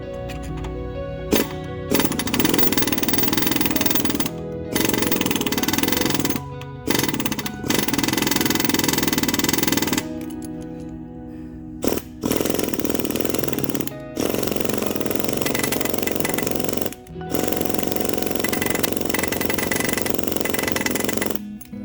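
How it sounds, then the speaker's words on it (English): An air hammer peens a plug into a hole in a Mopar 452 big-block cylinder head, firing loud, close, rapid hammering bursts of a few seconds each, separated by brief pauses. "I'm going to go in there and peen it some"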